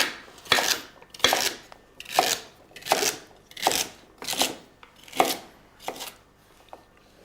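A knife cuts celery into large pieces, eight crisp evenly spaced chops landing roughly once every second on a cutting board, close and clear with no talk.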